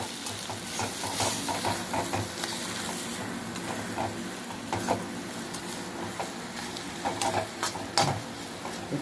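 Brain fry with onions and salt cooking in a pan, a loud, steady sizzle with intermittent clinks and scrapes as a utensil stirs the mixture close by.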